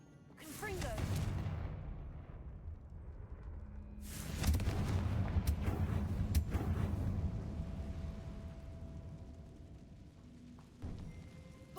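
Confringo spell explosions in Hogwarts Legacy erupt in two big blasts, a short one near the start and a heavier, rumbling one midway that fades slowly, followed by a smaller burst near the end.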